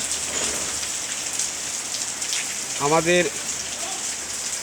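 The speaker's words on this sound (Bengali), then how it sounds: "বাহিরে পর্যাপ্ত পরিমাণ বৃষ্টি তাহার কারণে" Heavy rain pours outside a shop in a dense, steady hiss throughout, while a voice briefly speaks over it near the middle.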